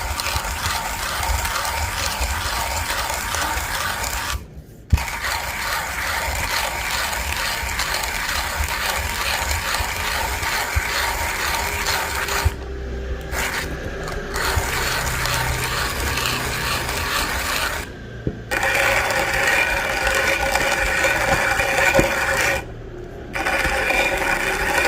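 A hand-cranked grinder crushes light roast Ethiopian coffee beans with a continuous gritty, ratcheting crunch. It is loud and close, with a few brief pauses between turns.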